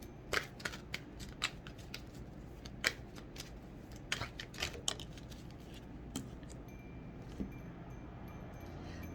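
Oracle cards are shuffled and drawn from a deck, giving a quiet run of crisp papery flicks and snaps at irregular intervals against a soft room background.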